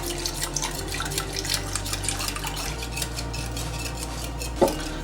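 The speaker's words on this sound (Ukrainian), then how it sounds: "Знову розмішуємо до однорідної маси." Whisk or spoon stirring milk into pancake batter in a bowl, a continuous rapid clatter and sloshing close up, ending in a sharper knock against the bowl, with no talking.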